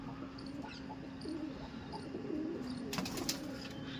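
Pigeons of mixed breeds in a breeding loft give faint, soft coos against a steady low hum, with a brief burst of flapping or rustling near the end.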